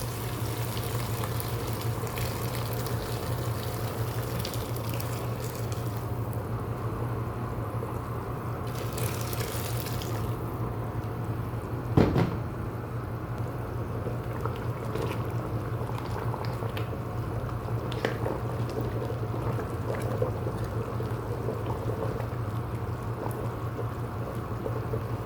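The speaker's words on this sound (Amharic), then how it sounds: "እዚህ ጋር የፈላ ውሃ አለኝ እጨምራለሁ።" Boiling water goes into a cooking pot while kabsa is prepared, a steady low simmering hiss and gentle liquid rush, with a brief clunk midway.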